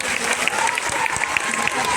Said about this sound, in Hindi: और एक बार आज के इस छोटे नन्हे मुन्ने भूतों के लिए जोरदार तालियां